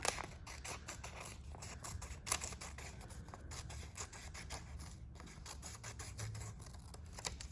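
Scissors snipping through paper in a quiet room, a rapid string of small crisp cuts and rustles continuing throughout at low volume, with no talking.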